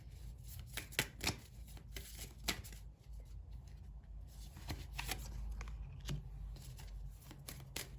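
Oracle cards being shuffled by hand, with soft, papery riffles and taps coming in irregular bursts, close up, over a quiet background with no speech.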